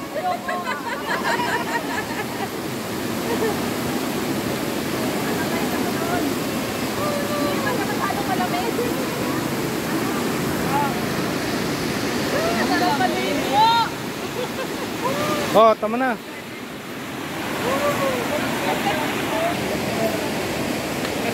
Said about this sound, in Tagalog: medyo malakas yung alon. Ayan yung agos, pero okay lang.